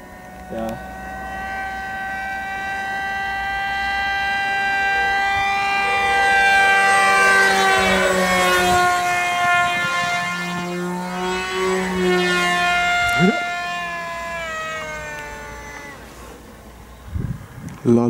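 A 2020 Lidl toy glider's small electric motor hums at maximum speed, a loud, steady whine with several harmonic tones that slowly bend up and down in pitch for the whole stretch.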